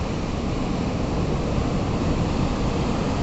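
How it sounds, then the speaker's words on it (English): Ocean waves breaking on Wonboyn Beach in New South Wales, heard from a clifftop above as a continuous, even wash of surf with no voices. "Can you hear the waves?"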